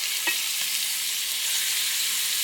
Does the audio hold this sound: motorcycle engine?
no